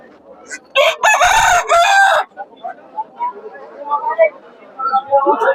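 A rooster crows loudly and close by at a rural poultry market selling ducks and chickens, followed by quieter clucking from the fowl and background chatter.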